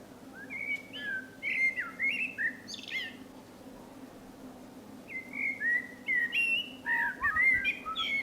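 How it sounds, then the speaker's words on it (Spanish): A blackbird sings clear, fluting musical phrases in two bursts separated by a short pause, close and distinct against a low, steady background hum. "Como tampoco es casual que un mirlo haga frases musicales."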